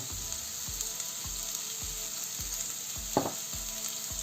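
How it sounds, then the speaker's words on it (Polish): Chicken pieces fry in hot oil with a steady, close sizzle and crackle, a few soft rhythmic thumps underneath and one brief louder splatter partway through. "I musimy to teraz usmażyć wrzucamy na rozgrzany olej"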